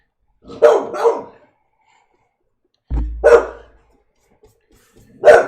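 Three sharp dog barks, a quick double bark followed by two single ones spaced a couple of seconds apart, loud and close with quiet between.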